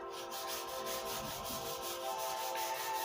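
Primer varnish on a guitar body is sanded by hand, a steady close scratchy rubbing in rhythmic back-and-forth strokes, with no talk.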